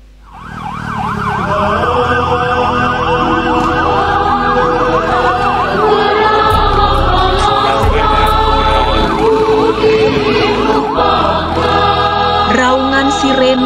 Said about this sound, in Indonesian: Raungan sirene mengejar waktu.